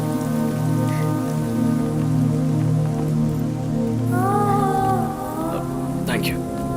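Steady rain falls all the way through, dense and even, under a constant tonal hum of background music, with no clear talking.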